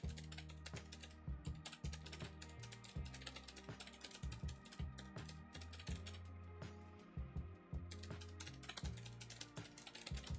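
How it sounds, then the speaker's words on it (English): Someone types on a computer keyboard in quick, uneven bursts of clicks with short pauses between them. The clattering is close and very quiet, and there is no talking. "And now we have the nice tones of Brian typing"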